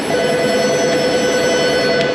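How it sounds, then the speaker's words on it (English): A telephone rings continuously in a busy auto repair shop, its steady electronic tone loud and close against faint background noise, with no talking. "The phone's ringing."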